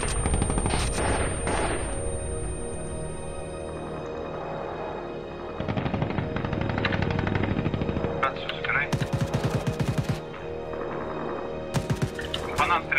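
Gunfire in an Arma team-versus-team battle: repeated automatic bursts and single shots, some close and loud, others more distant, heard amid voices talking throughout.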